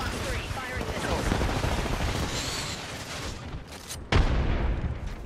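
Missiles firing and exploding in the video game Apex Legends, a dense rumbling barrage of gunfire-like bursts with a sharp loud blast near the end, heard under the mix without clear talk.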